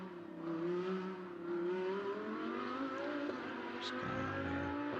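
A GT4 race car's engine in Assetto Corsa Competizione at Oulton Park drones steadily, its pitch climbing slightly as it accelerates along the track, loud and continuous with no one speaking.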